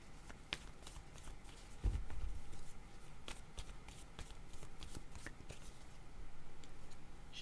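Picture cards being shuffled and drawn for a reading, with soft papery riffles and repeated light flicks and taps at close range, fairly quiet throughout.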